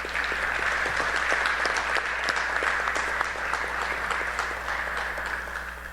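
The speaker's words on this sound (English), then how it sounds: "So give yourselves a round of applause." An audience at a university Founders Day convocation applauds steadily, a dense, even wash of clapping that carries on for several seconds over a low hum and fades slightly toward the end.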